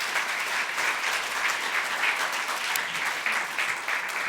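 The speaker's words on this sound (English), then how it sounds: "Give them a round of applause as well" Audience round of applause at an event, a sustained burst of clapping from a seated crowd, moderately loud and even throughout.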